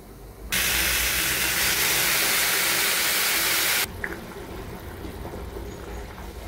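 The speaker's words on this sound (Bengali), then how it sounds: "এখন জল দিয়ে দিব।" Water pours into a pot of rice and chillies for basanti pulao, a loud steady hissing rush that starts abruptly, holds for about three seconds and then cuts off, leaving a quieter background.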